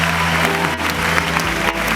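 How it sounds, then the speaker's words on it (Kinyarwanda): Applause from a crowd at a gospel concert in Rwanda, a dense, steady clatter of many hands filling the room, loud and sustained with music droning underneath. "amashyi menshi cyane"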